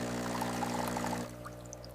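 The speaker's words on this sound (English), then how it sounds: "I make a cup of coffee." Coffee being poured into a cup in a kitchen as part of a morning routine: a steady liquid pour with a constant hum underneath, softening partway through, with no voices.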